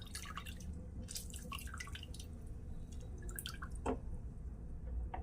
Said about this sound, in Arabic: واعصر عليه ليمونه،